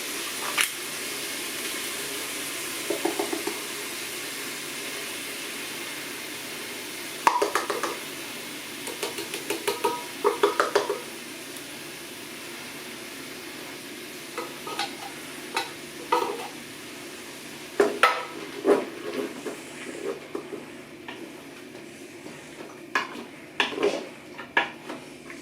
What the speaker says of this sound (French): les oignons et les saucisses qui sont en train de dorer